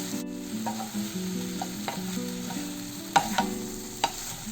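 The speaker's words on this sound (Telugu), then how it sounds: "బాగా కలుపుకోవాలి. ఒక 2 మినిట్స్ ఈ విధంగా కలుపుకుంటూ పెట్టుకోవాలి." Chilli chicken fries in a pan and is stirred. A continuous loud sizzle runs under a low background hum, with a few distinct scraping knocks from the spoon against the pan.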